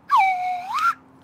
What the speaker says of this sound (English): we love your whistle too